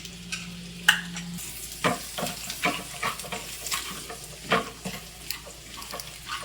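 Chopped garlic frying in hot oil and butter for pepper garlic butter chicken, a soft, low sizzle marked by repeated spatula scrapes and stirring knocks at irregular intervals.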